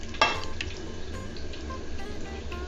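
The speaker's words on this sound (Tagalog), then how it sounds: "Ito na yung onion natin. Mga 5 onion to eh. Fry lang natin siya." Five onions frying in a pan for a chicken biryani, a steady close sizzle running throughout, with a sharp clatter near the start and faint stirring and dripping touches.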